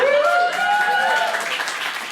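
In a comedy club, an audience breaks into a short burst of applause and cheering, loud and close, with a voice speaking over it.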